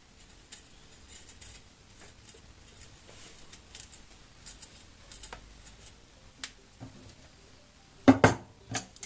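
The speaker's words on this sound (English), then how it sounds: "now I'm going to cut satoimo. Right. So a bit tricky. It's a bit rough surface, so I just use big knife as well as a peeler" Quiet kitchen handling of rough-skinned satoimo taro with a large knife and a peeler: faint scraping and soft taps, ending in a few sharper knocks of knife or utensil against a board or dish.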